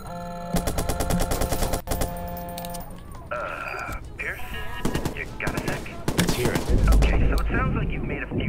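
Rapid bursts of automatic gunfire and sharp single shots ring out in the Watch Dogs video game, loud and close, mixed with metallic clinks and game effects.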